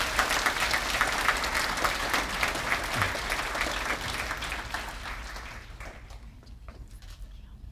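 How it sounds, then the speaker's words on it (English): An audience at a 2023 awards celebration claps in a sustained, dense burst of applause that gradually tapers off toward the end. "Give them a round of applause."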